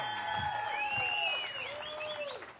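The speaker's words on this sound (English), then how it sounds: "A great crowd here. Thank you for cheering on our anglers." A crowd at a Bassmaster Redfish Cup fishing weigh-in in Port Aransas claps and cheers, with loud whistles and shouts rising over the applause across a short burst.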